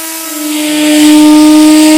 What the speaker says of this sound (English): I'm going to use 60 grit sanding paper and see what I can uncover under this grayness